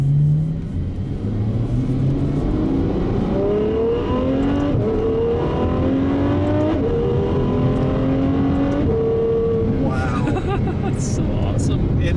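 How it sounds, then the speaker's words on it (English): Ferrari F12 Berlinetta engine and exhaust note heard from inside the car while driving on a main road in manual mode, a steady loud drone with rising rev sweeps through successive gears, under continuous talking. "The exhaust note, I hope the camera is picking it up the way it sounds"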